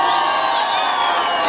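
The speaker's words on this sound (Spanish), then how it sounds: "¡Vengan los aplausos para la segunda pareja de esta noche!" A crowd at an anniversary celebration claps and cheers loudly for the second couple of the night, with dense whoops and shouts filling the whole moment close by.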